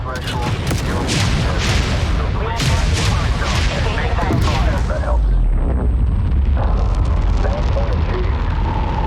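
A fusion missile warhead detonating in the space strategy game Homeworld 3: loud, rumbling blasts and booming bursts that roll on continuously, with a rising roar near the end.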